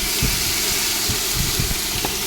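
Whole spices fry in hot oil for a paneer dish, giving a dense, steady sizzling hiss with a few soft pops beneath it, loud and close throughout.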